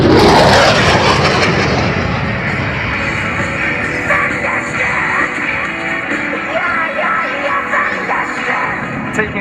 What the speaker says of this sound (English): setting up now for his high-speed pass, accelerating all the way up to 600 miles an hour from the left.